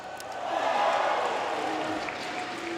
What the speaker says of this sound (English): Was that cheering for the mustache?